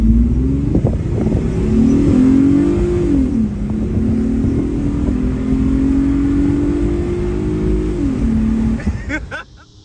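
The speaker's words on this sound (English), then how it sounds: "Mivec on the V6 and the Mitsubishi, the 6B, sounds just like VTEC." A Mitsubishi Evo X fitted with a 6B V6 engine with MIVEC pulls away from a stop, its exhaust tone rising through the revs, dipping at the gear changes, then climbing again before fading away near the close.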